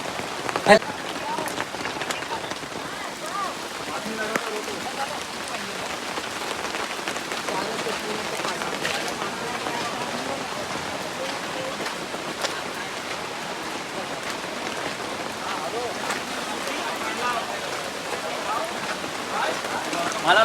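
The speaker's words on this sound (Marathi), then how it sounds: "लय थंडी लागते एवढा पाऊस पडतो आणि मी सुद्धा पावसात भिजलोय" Heavy monsoon rain pours steadily over a market, a dense continuous hiss of drops drumming on surfaces throughout, loud and close with no letup.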